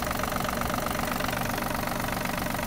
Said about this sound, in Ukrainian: Чистенька робота двигуна.